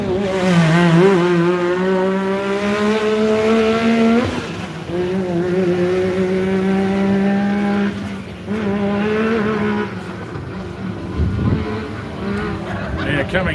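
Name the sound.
Yamaha racing past toward the finish line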